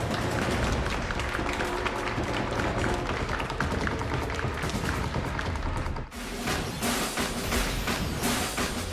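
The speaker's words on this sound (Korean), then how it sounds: "양 선수의 1차전 경기를 여러분의 박수와 함께 지금부터 만나보겠습니다" Audience applause at an esports tournament match in the FIFA Online 3 Championship semifinal, dense continuous clapping throughout, loud and close, with a brief dip before it swells again.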